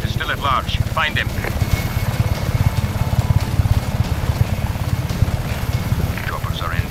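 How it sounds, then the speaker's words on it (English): Helicopters approaching in the video game Just Cause 3, a fast, thumping rotor pulse running steadily under clipped radio-style voices and other game noise. "Choppers are inbound."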